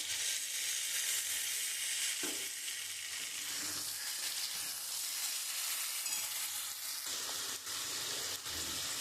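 Reddened fried pointed gourd cooks with ground mustard paste in a pan, making a quiet, continuous hiss and sizzle with light stirring scrapes now and then.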